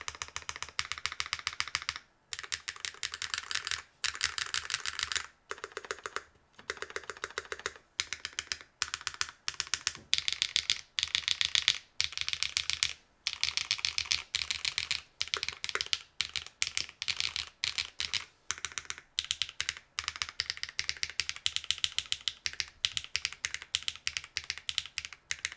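Continuous typing on a custom NAMA mechanical keyboard, with quick, crisp clacks running in rapid bursts separated by short pauses, close and fairly quiet with no speech.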